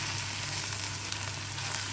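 Okra frying in a pan with salt and chili powder, a steady close sizzle with a low hum underneath, continuous and even throughout with no voices.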